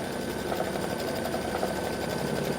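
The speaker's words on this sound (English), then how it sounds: "this is much better the way it's stitching" An embroidery machine stitching a decorative fill on an appliqué pumpkin, a fast steady mechanical chatter of needle strokes heard close and continuous, with no talking.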